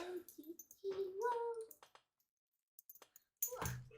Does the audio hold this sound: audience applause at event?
no